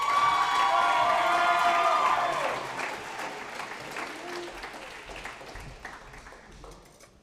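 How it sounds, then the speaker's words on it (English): An audience at a school senior awards celebration applauds the graduating presidential scholars, with loud, dense clapping mixed with a few cheers that gradually fades over several seconds. "If we could give one more round of applause for the 2025 graduating presidential scholars."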